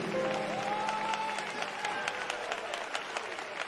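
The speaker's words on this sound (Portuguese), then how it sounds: "Pode bater as palmas para Jesus." A church congregation claps for Jesus, with scattered rhythmic clapping rising under a sustained voice or tone that fades after the first seconds, leaving clapping to continue steadily.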